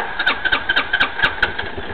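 A 260cc scooter with a fault that makes it stall is started, its engine firing in a quick, loud, uneven run of sputtering pulses that settles toward a rough idle.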